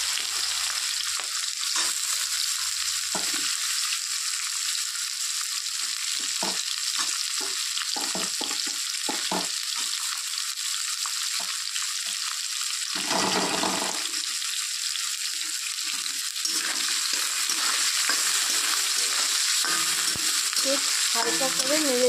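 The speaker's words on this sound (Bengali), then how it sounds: "পেঁয়াজটাকে ব্রাউন কালার করে ভাজতে" Chopped onion frying in a pan for egg curry, a steady hissing sizzle running throughout with occasional stirring scrapes, close and fairly even, and no talking.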